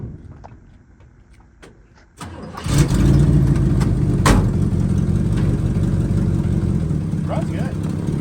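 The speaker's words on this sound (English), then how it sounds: "Now I can do a big old peel out now that he left." A rough-running 1972 Chevrolet C20 farm truck with a swapped carburetor and intake fires up and roars into a loud, sustained rev for a peel out, up close after a quieter lull, with talk mixed in.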